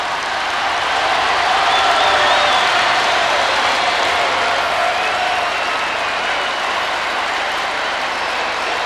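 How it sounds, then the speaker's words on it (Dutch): Audience at a 1988 Heerenveen ice gala applauding Prince Willem-Alexander: dense, sustained clapping from a large crowd filling the hall, steady and loud throughout, with faint cheering mixed in. "En u hoort het aan de reactie van het publiek."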